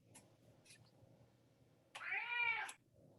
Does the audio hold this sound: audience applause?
no